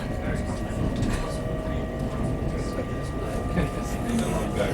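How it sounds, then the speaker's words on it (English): Steady low rumble and hum of an LNER Azuma passenger train running toward Newcastle, heard from inside the carriage as constant wheel-and-motor drone with faint tonal whine, with quiet talk underneath. "welcome on board this LNER Azuma to Newcastle."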